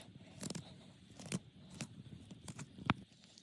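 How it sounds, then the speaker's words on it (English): A knife clicks and scrapes against deer ribs in a few irregular, close taps and scratches, fairly quiet, with no talking. "You can kind of hear my knife clicking and banging on them."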